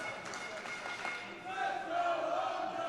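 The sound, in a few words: wrestling arena crowd cheering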